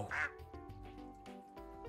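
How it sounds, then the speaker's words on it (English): In a survival arcade video game, a duck lets out one clear, close quack at the start, set over a steady, quiet bed of game music. "I keep hearing a duck and things like that."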